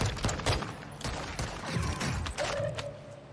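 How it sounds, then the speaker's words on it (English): Gunfire in Call of Duty Warzone: a rapid fusillade of close, sharp shots with mechanical clatter, followed by a brief lingering tone. "Shooting back."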